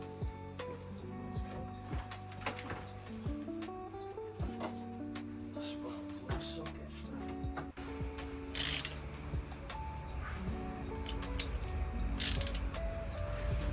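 A hand ratchet loosens the spark plugs on a Mazda MX-5 during a budget full service, with repeated clicking pawl strokes and short mechanical clatters at close range, in bursts over a steady background.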